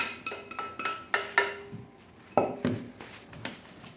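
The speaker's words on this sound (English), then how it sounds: "I'm going to go ahead and stir our quinoa in there" Quinoa being stirred into balsamic vinegar salad in a bowl for a quinoa, tomato and cucumber salad, with a run of sharp utensil clinks and scrapes against the bowl, irregular and close, with no voices.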